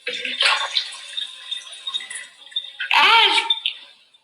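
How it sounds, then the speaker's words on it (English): Vinegar liquid poured out of a cup, leaving a rubber egg behind, makes a short, close watery splash and gurgle that builds into a louder gush near the end. "Kai is going to dump his liquid out, which is the vinegar liquid"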